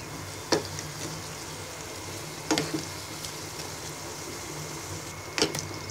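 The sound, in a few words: aloo puri frying in oil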